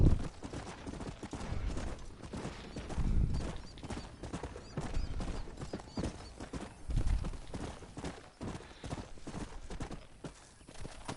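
Horse hooves clip-clop at a steady trot in the Western video game Red Dead Redemption, a continuous run of rhythmic hoofbeats at moderate distance with faint ambient outdoor sound.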